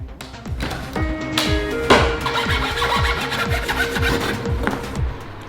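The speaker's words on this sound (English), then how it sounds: "I used the saw method because I didn't have a wrecking bar" Hand saw cutting through material while a dining table is assembled, a rapid regular series of rasping back-and-forth strokes, close and fairly loud with no talking.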